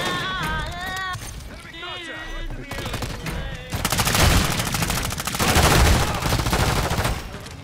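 Heavy automatic gunfire rattles in Call of Duty, breaking into a dense, loud, continuous barrage midway after a quieter stretch of game sounds and speech, with voices heard throughout.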